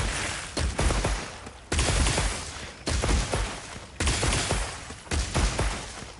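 Gunfire from a weapon fired in a training area of the video game Talisman, sounding as five loud bursts of rapid shots, each about a second long and separated by brief gaps, with no talking.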